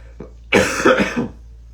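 A person gives a short burst of coughs, a quick cluster of rough throaty hacks that starts with a small throat clear, close and alone with no talking.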